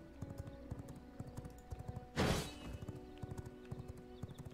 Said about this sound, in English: Go, horsey!